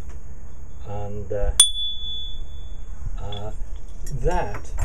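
A small bell brushed by hand gives one bright clink and a thin ringing tone that fades slowly, between stretches of someone talking.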